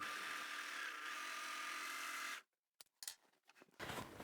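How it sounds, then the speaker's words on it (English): An overlocker serges the top edge of a fabric tote bag, a steady close mechanical whir for a couple of seconds that stops abruptly, followed by brief handling noises and a short restart. "bring that straight under our overlocker right next to the cutting blade, and then start sewing all the way to the end"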